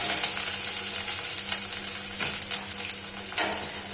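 Garlic paste, dried red chili paste and spices fry together in a pan while being stirred, giving a bright, steady sizzle with periodic spatula scrapes and no voices.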